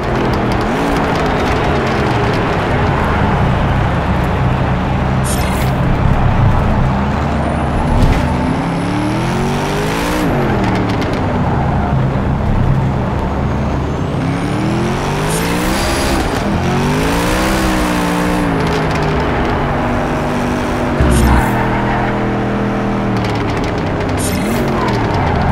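Hennessey Venom F5 hypercar lapping Yas Marina F1 Circuit in Project CARS 3, engine roaring and rising through gears with repeated revving sweeps, downshifts and brief tire squeal, loud and continuous throughout.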